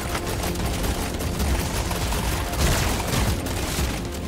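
Autocannon volleys in Deep Rock Galactic: Survivor, a Hazard 5 run through the Crystalline Caverns, come as a dense, continuous barrage of loud rapid gunfire and booms, with a swell near the middle and no speech.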